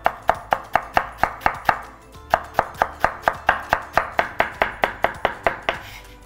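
A knife slices an Asian pear diagonally on a cutting board, producing a steady run of about two dozen crisp, evenly spaced chops, close and fairly loud, with a brief pause midway and no voices.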